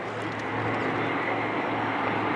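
Piston engines of a B-25 bomber at a WW2 weekend bombers and transports parade roar steadily as the plane passes, a broad continuous drone with no voices.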